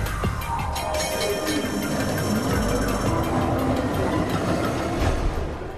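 An electric tram rolls along its rails with a loud, continuous rumble, rising and falling whine from the motor and steady wheel noise, heard up close.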